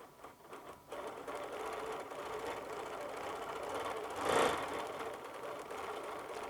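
A Bernina Q20 longarm quilting machine stitches steadily, its fast even whirring hum running continuously at close range with a slight swell midway, no voices present.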